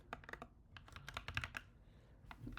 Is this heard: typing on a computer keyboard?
yes